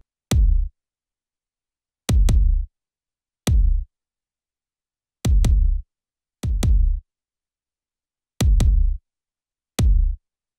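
Layered hip hop kick drum, the original kick blended with a saturated, compressed parallel copy, landing in sparse punchy hits and quick doubles with deep short booms and sharp attacks, loud and dry against silence.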